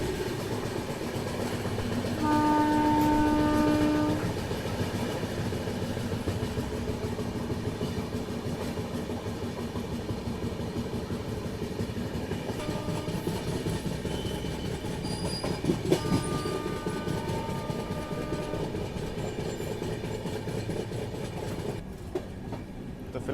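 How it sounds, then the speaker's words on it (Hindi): A Marudhar Express train rolling into Sambhar Lake railway station in India gives a steady, continuous rumble of moving carriages, with brief tonal squeals and hums rising over it, and no talk. "तो फिलहाल अपनी ट्रेन पहुंच रही है सांभर लेक रेलवे स्टेशन"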